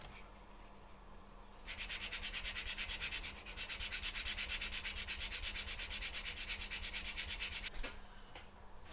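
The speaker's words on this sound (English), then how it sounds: "just sand all this detail off" Fine sandpaper scrubs raised detail off the plastic deck of a 1/200 Trumpeter HMS Hood model, a close, rapid back-and-forth rasp that runs steadily for several seconds.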